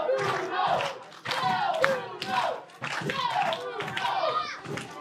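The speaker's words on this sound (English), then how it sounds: "You can hear the crowd solidly behind Del Bruno." Wrestling crowd at an NSW pro wrestling event cheering and chanting in rhythmic bursts, loud and close, with a commentator's voice running over it.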